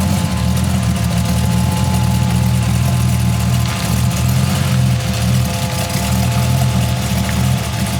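A 1940 Ford's engine runs at a steady idle, a loud continuous low rumble close by with no talk over it.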